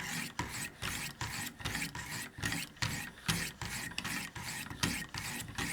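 A blade is drawn in rhythmic alternating strokes across a 600 grit diamond stone, giving a close, regular rasping scrape about twice per second with short pauses between strokes.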